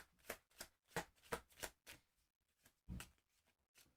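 A deck of game cards shuffled by hand in a series of soft, quick riffles and taps, quiet and close, with short irregular pauses between them.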